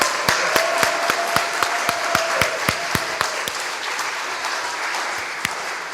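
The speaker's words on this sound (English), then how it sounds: "let's give a round of applause to all of our performers and readers today." Congregation applauding performers and readers at a jazz and poetry church service, a steady spread of clapping with several sharp, distinct claps near the front, fading slightly toward the end.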